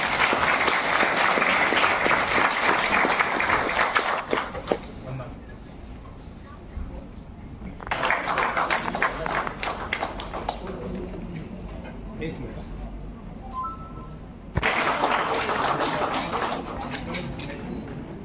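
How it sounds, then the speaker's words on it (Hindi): A crowd at a public ceremony in Nagpur for a kheer-making world record breaks into loud applause in three bursts, with quieter stretches of talk and murmuring between them. "जोरदार तालियां हो जाएं"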